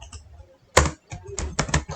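Quick clicks and clacks of a computer keyboard as code is typed, a sharp keystroke followed by a cluster of faster taps, close and fairly loud.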